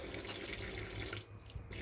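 Water runs steadily into a container for mixing paint at home, a continuous close hissing splash with a brief softening partway through, heard alone without any voices.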